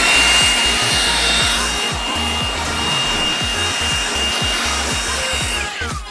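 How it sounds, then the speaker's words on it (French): A steady, loud leaf blower roar runs throughout as it clears the gutters of a roof, with a rhythmic rasping undertone, close and continuous with no talking. "je prends un souffleur et je vais souffler les couloirs."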